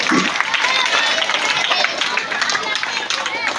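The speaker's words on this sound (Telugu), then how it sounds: "ఒకసారి సార్కు ఆల్ ద బెస్ట్ చెప్తూ చప్పట్లు కొట్టాలి" Audience in a Telangana school gathering applauds the school official, a mandal education officer, with dense, steady clapping and crowd murmur filling the whole stretch at close, loud level.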